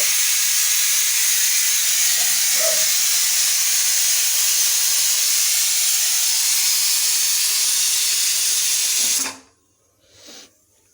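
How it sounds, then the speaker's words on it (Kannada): A pressure cooker vents a loud, steady hiss of steam at close range that runs unbroken for about nine seconds, then cuts off abruptly, leaving near silence with a faint low rumble. "ಒಂದು ಕಡೆ ಕುಕ್ಕರ್ ಸೌಂಡು"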